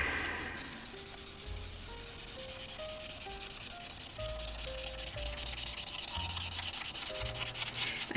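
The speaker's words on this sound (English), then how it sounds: "so I have to color in everything with the brush" A brush-tip marker pen colors in a page of a drawing book, making a continuous soft rubbing and scratching of felt tip on paper over faint background music.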